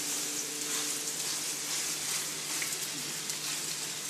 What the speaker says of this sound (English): Now, I got that skillet going pretty good. I'm going to go ahead and throw the veal in there.